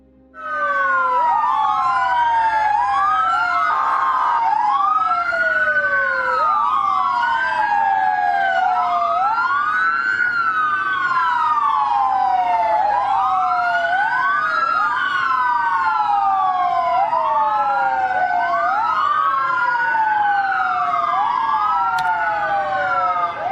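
Several police car sirens wail over one another at close range, their rising and falling tones cycling continuously and overlapping loudly for the full length beside a car on a street.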